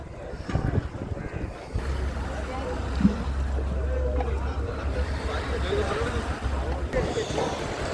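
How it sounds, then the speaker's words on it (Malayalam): A large fishing boat's engine drones steadily in the distance as it approaches, over wind noise and open sea water, with people talking nearby. "ഒരു വലിയ വള്ളം ദൂരെ നിന്ന് ഓടി വരുന്നുണ്ട്"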